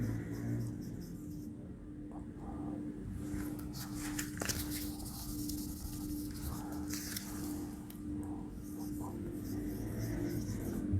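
Pen writing out a sentence by hand during an English grammar lesson, a soft, continuous scratchy rubbing on paper, faint and close, with no talk over it.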